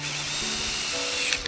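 A power drill drives a screw to secure a bracket, with a steady loud whine that holds throughout and a small shift in pitch partway through as the screw seats, close to the mic.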